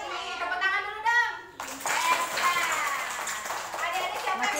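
Young children clap their hands in a classroom during a police visit about traffic signs, with lively patter that follows a voice and continues steadily to the end.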